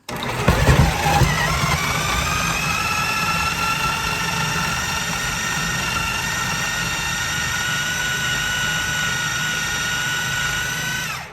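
A food processor motor runs steadily while chopping meat for homemade dog food, a loud continuous whine with strong harmonics that starts with a brief rough burst and holds evenly before cutting off at the end.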